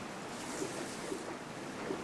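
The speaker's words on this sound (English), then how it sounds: "we can actually go into the fountain, and more specifically into the water." Fountain water in the Resident Evil 3 game's Raccoon City Park, a faint, steady wash of splashing water with soft lapping pulses and no voices.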